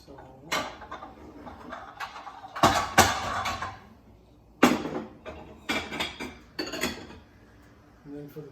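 Dishes being set out on a table for a chicken alfredo meal: a series of sharp clatters and clinks of plates placed down one after another, fairly close, with gaps between.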